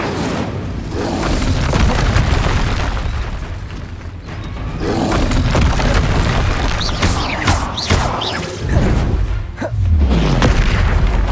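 Fire spell bursts and booming magical blasts from combat in the Hogwarts Legacy video game, loud and continuous, with repeated rumbling impacts and whooshing crackles over several seconds, no talking.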